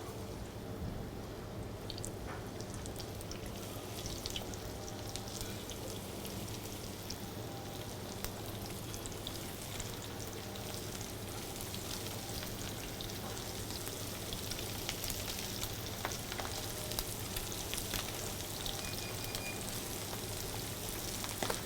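Steady crackling sizzle of carp frying in hot oil in a pan, a dense continuous hiss with scattered pops, close and fairly quiet, no talking.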